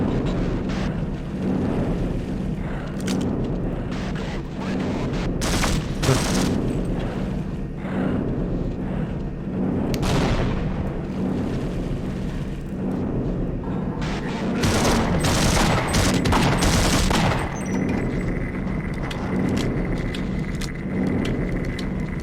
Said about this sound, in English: Will the turrets shoot it down?